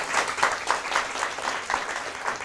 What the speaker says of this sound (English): Round of applause for Toussaint.